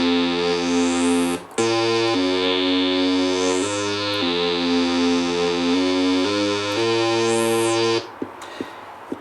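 A homemade Light Moog synthesizer plays a sustained, buzzy melodic line with no echo, its harmonic-rich notes stepping through changes and filter sweeps, loud and close, stopping abruptly near the end.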